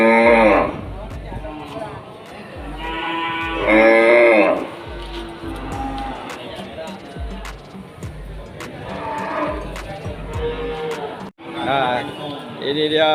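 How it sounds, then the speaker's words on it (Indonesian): Cattle, including Simmental calves, moo repeatedly at a livestock market in Aceh, some close and loud, others farther off, amid a busy outdoor crowd with people talking throughout. "Ini untuk pedet sapi simental yang cukup menarik perhatian ini"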